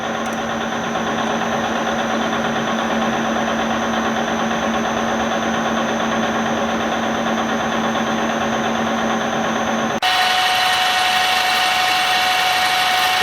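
A metal lathe turning steadily at 45 RPM, its lowest speed, in a home shop, giving a continuous mechanical hum with a faint whine that shifts in tone near the end.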